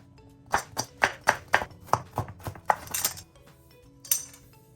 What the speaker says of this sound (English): I'm going to start by cutting up my vegetables